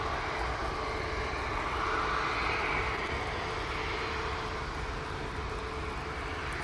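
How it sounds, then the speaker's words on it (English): An EasyJet airliner departs Manchester Airport bound for Innsbruck, its engines producing a steady, broad roar that holds at a fairly even level throughout, with no voices over it. "This is the EasyJet off to Innsbruck."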